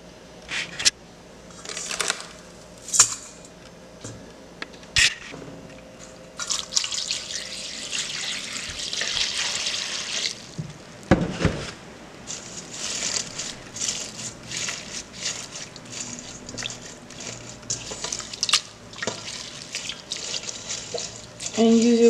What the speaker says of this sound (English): So I'm just going to rinse this off a few times to get any excess dirt that could be on there.